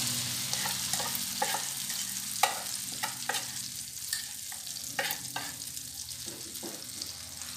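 Moong dal batter sizzles in a pan with butter and a little refined oil over a low flame, a continuous soft crackle with scattered sharper pops and stirring scrapes.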